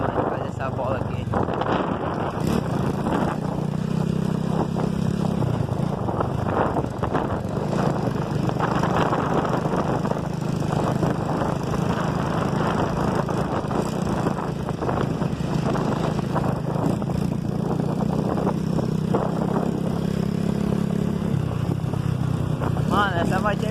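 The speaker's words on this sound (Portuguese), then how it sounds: "essa motinha é meu xodó, mano. O bicho é forte, mano." Small motorcycle engine running steadily throughout, a continuous buzzing drone with slight shifts in pitch, heard close and loud alongside talking.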